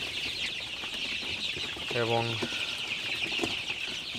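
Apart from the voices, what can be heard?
Sonali super hybrid chicken chicks chirping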